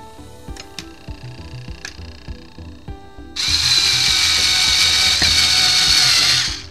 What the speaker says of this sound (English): I've got the Phillips head tip back in there, and now I'm going to see if I can do this without it spinning out of control